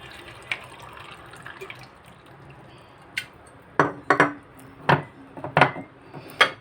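Water poured over plums in a glass jar for a homemade plum pickle, a low running trickle followed by several close, distinct splashing gurgles and clinks, with no talking.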